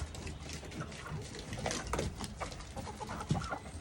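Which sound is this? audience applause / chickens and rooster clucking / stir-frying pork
chickens and rooster clucking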